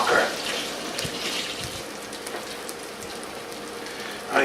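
Pollock fish sizzling in a pan, a crackly hissing spatter with scattered pops that holds steady throughout, with no voices over it.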